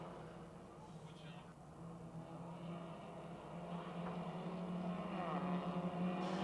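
Race cars roar together through a turn at Motordrome Speedway, a steady loud engine drone that swells slightly toward the end, with an announcer talking over the racing.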